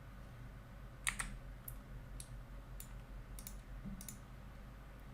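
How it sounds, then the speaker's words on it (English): Light clicks from a computer keyboard while working in TinkerCAD, several sharp keypresses spaced irregularly over a quiet low hum, faint and close, with no talking. "I'm going to hit H on my keyboard."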